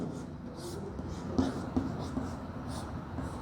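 Chalk or a marker writes a line on a board in a chemistry lesson, giving a few soft, short scratching strokes over a low room hum.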